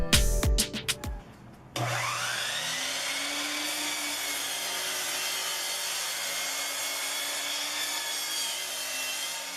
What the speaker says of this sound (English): The first cut I made was on the miter saw.